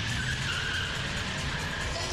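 A bioethanol Saab with a 2.3-litre engine accelerates hard off the line in a drag race, a steady loud engine roar with tyre noise and no voices.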